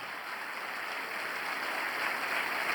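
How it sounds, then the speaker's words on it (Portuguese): A church congregation applauds during a worship service, a steady wash of many hands clapping at a distance, faint but continuous throughout. "Dê uma forte salva de palmas ao Senhor."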